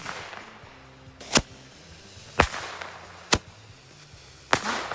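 Four loud, sharp bangs from a Cutting Edge 10-ball Color Thunder firework with red and green stars, spaced about a second apart, each cracking over a low background hum.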